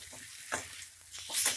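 Ingredients fry in a pan while a Kannada drumstick-leaf bassaru is made, giving short bursts of sizzling and stirring scrapes at a moderate, close level, with no one talking.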